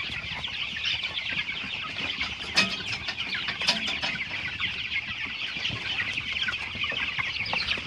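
Young chicks kept indoors in a straw-bedded pen because it is cold outside give a busy, continuous chorus of high peeping and clucking, with a few sharper calls standing out now and then.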